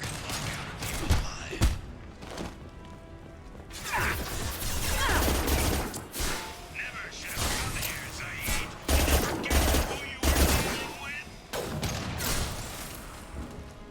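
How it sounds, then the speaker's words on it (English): Gunfire and impacts in Mass Effect 2 come in repeated loud bursts and crashes throughout, with brief pauses between volleys and a voice talking in places. "Firing an impact shot."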